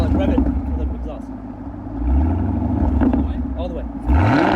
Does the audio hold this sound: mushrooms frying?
no